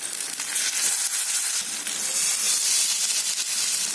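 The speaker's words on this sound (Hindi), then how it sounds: "इसे 2 से 3 मिनट तक मीडियम फ्लेम पे फ्राई करेंगे।" Paneer-stuffed bell peppers coated in batter fry in hot oil in a pan over a medium flame, giving a steady, close, bright sizzle and hiss with no talk.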